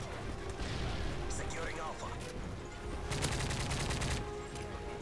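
Gunfire from the video game Modern Warfare 3, a dense burst of rapid shots in the middle of the match, heard under continuous game noise with people talking over it.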